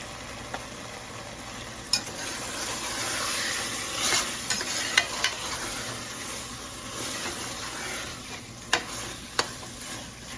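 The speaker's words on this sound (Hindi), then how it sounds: "थोड़ा भून जाए, ऑयल निकल आए। तो ऑयल निकलने के बाद भी 2 मिनट में भूनूंगी" Beef masala for tikka karahi fries in oil with a steady, fairly soft sizzle, broken now and then by sharp clinks and scrapes of a spoon stirring the pan.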